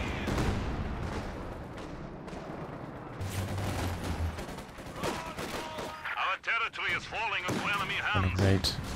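Katyusha rocket barrage in the Company of Heroes 2 video game, heavy booming volleys and blasts rolling one after another, with someone commentating over the battle noise.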